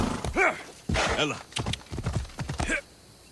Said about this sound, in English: We've just been riding around on our horse, looking for sync points, uncovering the map.